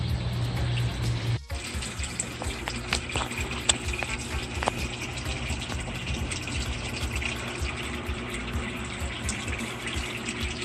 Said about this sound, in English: Got a little water dripping in right now.